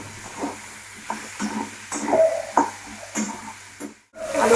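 Potatoes fry in a pan with a low, steady sizzle broken by repeated stirring scrapes and clatters. The noise cuts out briefly near the end.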